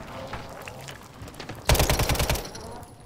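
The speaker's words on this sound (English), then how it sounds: "He's getting shot at by somebody else." Call of Duty gunfire rattles out in a loud, rapid automatic burst of about a dozen shots, preceded by quieter distant game ambience.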